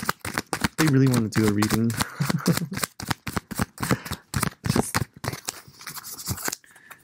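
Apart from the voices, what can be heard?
shuffling tarot cards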